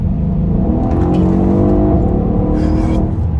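A Mercedes-Benz E63s AMG (W212) twin-turbo V8 with all-wheel drive, floored at full throttle, giving a loud, steady engine roar that climbs in pitch as the car pulls hard, heard close up from inside with no talking.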